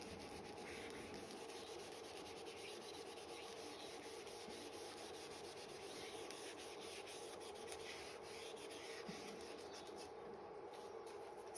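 Writing rubbed off a board in a steady, continuous scrubbing swish, quiet and close, without talk.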